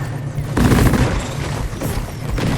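Rapid gunfire in the video game Deep Rock Galactic, with bursts of shots and booms in dense layered action over about three seconds, loud and close.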